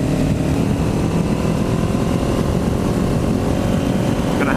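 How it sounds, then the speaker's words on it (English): A Kawasaki Ninja 400 parallel twin with an aftermarket exhaust, a continuous loud, close engine drone with a steady throbbing low rumble and no clear revving, without speech. "Have to get used to riding a loud twin again."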